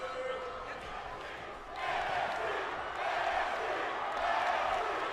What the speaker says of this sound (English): The crowd loving this match. They're chanting NXT